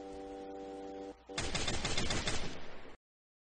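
Video game gunfire erupts after a steady tonal hum, a rapid burst of loud, dense shots rattling close together for about a second and a half before cutting off.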